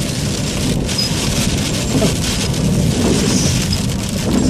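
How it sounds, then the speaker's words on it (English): Heavy rain pours steadily during a thunderstorm near Marburg, Germany, with low rumbling thunder rolling underneath throughout, loud and continuous with no voices. "there's lightning and thunder as well."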